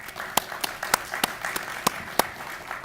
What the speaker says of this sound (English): Just give her a little applause.